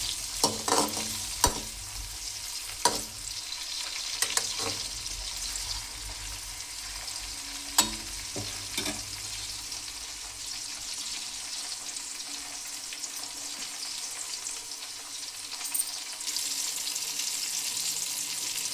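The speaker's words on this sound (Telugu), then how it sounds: "ఒక నిమ్మకాయ సైజు అంతా చింతపండు వేసుకోవాలి ఫ్రెండ్స్. వేసి అలా బాగా ఫ్రై చేసుకోవాలి." Lemon-sized piece of tamarind frying in a pan alongside tomatoes: a constant soft sizzle with occasional spoon clicks and scrapes against the pan, fading slightly as stirring stops.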